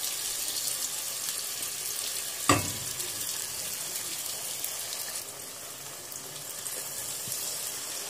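Eggs frying in a pan for egg curry give a continuous close hiss and sizzle, with one sharp clink or knock partway through and the sizzle easing slightly before picking up again.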